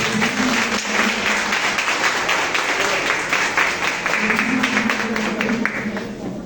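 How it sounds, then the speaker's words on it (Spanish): Church congregation applauding the Lord during a worship service, steady moderate clapping filling the room with a few voices murmuring underneath. "Dale un aplauso al Señor."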